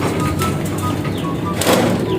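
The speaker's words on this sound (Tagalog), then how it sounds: "Check natin mga kalapatids to." Racing pigeons coo softly and repeatedly close by, low burbling calls under someone talking.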